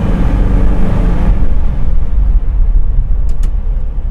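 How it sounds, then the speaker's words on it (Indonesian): A heavy vehicle rumbles past close by, a loud low roar that fills the clip and slowly eases off toward the end. "Wah pas ada truk lagi ini"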